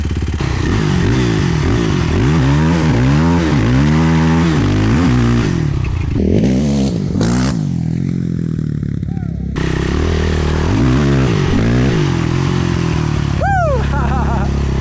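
Yamaha YFZ450 ATV engine running close and loud, rising and falling revs in repeated pulses with clattery mechanical noise, a brief drop partway through, and a person talking over it.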